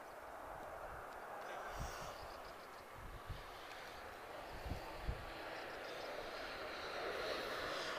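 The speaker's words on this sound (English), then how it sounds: "This is Iberia in a Puerto Rico livery, arriving from Madrid." An Iberia Airbus A320-214 in Puerto Rico livery arrives at Lisbon Airport from Madrid, its engine roar broad and moderately distant, with a few short thumps and clicks close by.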